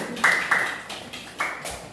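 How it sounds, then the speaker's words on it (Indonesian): Students in a classroom clap in a few scattered bursts, with some louder claps standing out over a short, uneven patter. "Silakan, ayo tepuk tangan."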